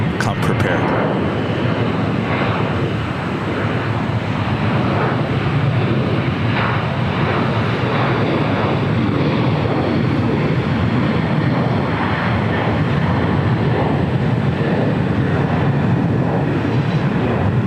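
An Alaska Airlines jet bound for Cabo roars on takeoff at LAX, a loud, steady, broadband engine roar close by that fills the whole stretch without letup.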